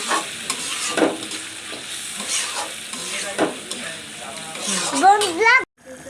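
Ground spice paste frying in a pan for fish curry sizzles, with stirring scrapes; a voice rises over the frying near the end before an abrupt cut to near silence.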